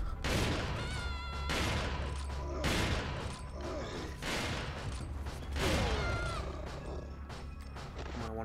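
Repeated shotgun blasts in the video game Resident Evil 4, loud booming shots coming every second or so with impact and reload clatter between them.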